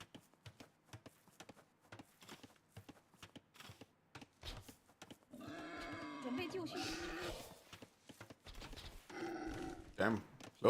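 Sheep bleat in a video game strategy match: several harmonic bleats from about 5 to 10 seconds over sparse clicks and game sounds, with soft talk in the background.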